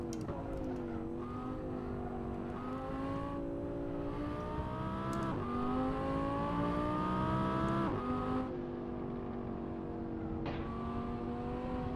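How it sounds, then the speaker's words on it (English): Race car engine in Assetto Corsa on the Nordschleife, revving and shifting through gears with rising and falling pitch, while another car draws alongside and passes on the right. "He's passing me on the right"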